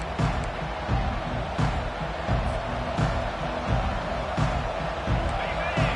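A large college football stadium crowd roars steadily at the Iowa Hawkeyes opening kickoff, a dense, continuous wall of cheering and noise with rhythmic swells.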